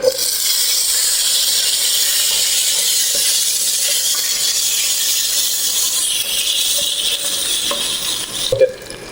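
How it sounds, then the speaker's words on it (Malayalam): Peeled small onions hit hot oil for a curry fish fry, giving a loud, steady, close sizzle that hisses without a break the whole way through. "ഇടാൻ പോണത് ചെറിയ ഉള്ളി കേട്ടാ, തൊലിച്ച് വെച്ച ചെറിയ ഉള്ളി."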